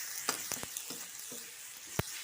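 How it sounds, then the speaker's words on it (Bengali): Turmeric powder and tomato fry in hot oil in a pan for a raw jackfruit curry, a steady close sizzle with a few sharp stirring clinks and scrapes, no talking. "হলুদটাও ভালো করে তেলের উপরে একটু ভেজে নেব।"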